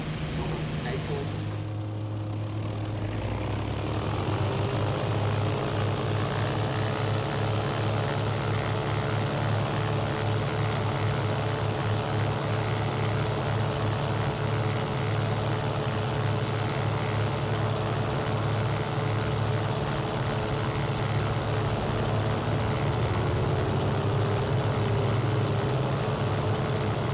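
Propeller airplane engine at takeoff power, a steady loud drone with strong low harmonics building early and holding throughout, with brief speech over it.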